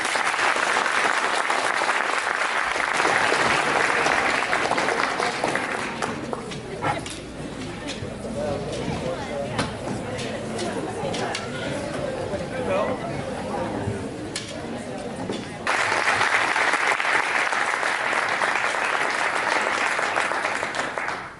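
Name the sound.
audience applause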